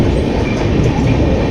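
A Duronto Express sleeper-class train runs onto the Konkan Railway on its route toward Mangaluru, with a steady, loud, close rumble of wheels and carriage noise throughout and no voices.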